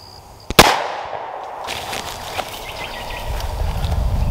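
A single .357 caliber gunshot fires outdoors as one loud, sharp crack, preceded by a small click and followed by fading echo, then faint rustling and low background noise.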